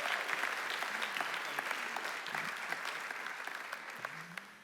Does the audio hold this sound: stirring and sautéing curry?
no